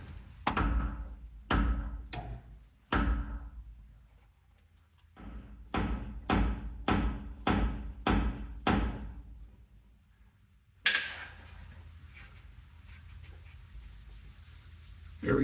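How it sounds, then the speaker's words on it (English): Screwdriver prying at a transfer case seal on a 1994 Chevy K1500, heard as a series of sharp metallic taps and knocks in irregular bursts, followed by a steadier scraping rasp as the seal starts to give. "I can get this bigger screwdriver in and hopefully use this to pry"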